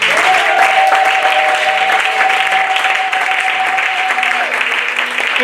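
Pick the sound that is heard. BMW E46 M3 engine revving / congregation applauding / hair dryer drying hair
congregation applauding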